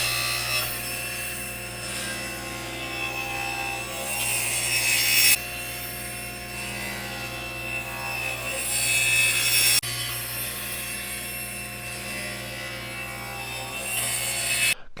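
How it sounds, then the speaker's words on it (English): A wooden board is sawn into strips for an end grain cutting board, with a steady, close rasping cut running continuously and abrupt shifts where one pass ends and the next begins. "But let's go ahead and cut our strips first."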